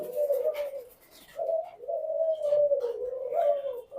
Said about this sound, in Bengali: মমিন ভাই এখনো ঘুঘু পাখি পালন করতেছে, যেখানে ঘুঘু পাখির এত বড় কালেকশন কারো কাছে নাই সারা বাংলাদেশে।